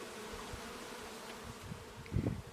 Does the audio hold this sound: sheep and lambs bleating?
no